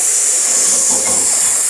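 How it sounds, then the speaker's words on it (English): A steady, loud hiss of food sizzling on a hot surface, continuous and close, with no voices. "You hear that sizzle right there?"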